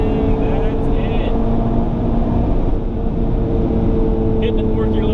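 A Honda Civic Type R engine held at the fourth-gear rev limiter on a track, a loud, constant close-up drone with heavy wind and road roar beneath, and a voice talking over it.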